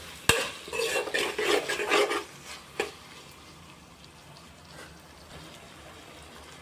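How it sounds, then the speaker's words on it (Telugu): Chopped tomatoes are stirred into a bottle gourd and moong dal curry in a pot, giving a busy scraping, sizzling burst for about two seconds, then one clink before a quiet kitchen hum. "టమాటా వేసుకున్న తర్వాత కూడా మీరు టమాటా ముక్కలన్నీ కలిసేలా ఒకసారి కలుపుకోండి"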